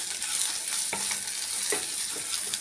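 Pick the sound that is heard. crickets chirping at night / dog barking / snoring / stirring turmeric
stirring turmeric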